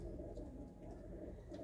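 Pigeons coo softly from a loft with some birds perched above, a low continuous murmur of cooing heard faintly and without any talk.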